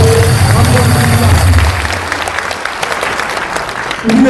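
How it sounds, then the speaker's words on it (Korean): A crowd at a political rally breaks into loud, dense applause that is strong at first, then thins slightly before a late surge. "박수 한번 해주십시오."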